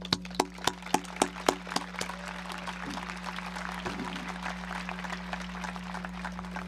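Graduation ceremony crowd, Dallastown Area High School class of 2012, starts with several sharp isolated claps in slow rhythm, then settles into a softer, distant patter of applause over a constant low electrical hum.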